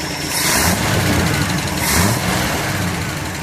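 An early Ford Zodiac MkIV with a six-cylinder engine idles close by, a loud, steady mechanical hum with a slight pulsing rise and fall and no voices.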